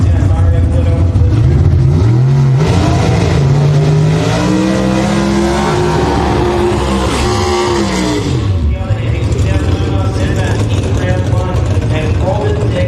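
Drag race cars launch at the Winternationals drag racing event, loud roaring engines rising and sweeping in pitch as they accelerate away, with a commentator talking over the noise throughout.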